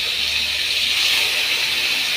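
Thickly cut bitter gourd and potato slices sizzling in hot oil in a pan, a loud, steady, close hiss that carries on without a break.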